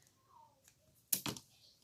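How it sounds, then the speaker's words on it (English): Ribbon scissors snip through ribbon while making a spooky pumpkin card, giving one sharp, close double-stroke cut after a quiet pause. "now we can take our ribbon scissors here and give these a cut"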